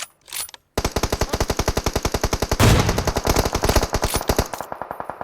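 Sustained automatic rifle fire in a PUBG Mobile match on the Erangel map, a rapid, evenly paced stream of loud close shots lasting several seconds after a brief opening burst.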